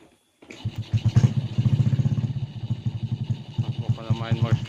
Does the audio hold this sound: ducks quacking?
no